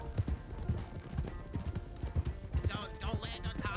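Horse hooves clip-clop in a steady trotting rhythm during a Western roleplay game, with people talking over the hoofbeats and a brief whinny-like sound near the end.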